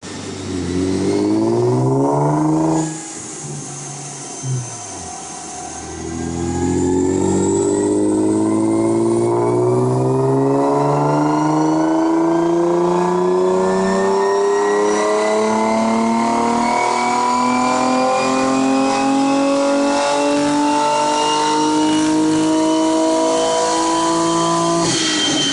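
Infiniti G35 engine on a Mustang dyno, a sustained rev climbing steadily in pitch from low to high rpm over many seconds, loud and close, after a brief dip and restart early on.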